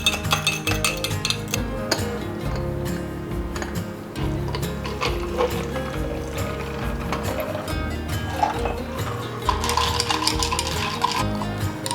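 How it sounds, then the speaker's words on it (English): Hot tea poured into a honey jar and stirred, a spoon scraping and clinking rhythmically against the glass, close and continuous with soft liquid sounds, no talking. "I'm just gonna pour a little bit of hot tea into this honey"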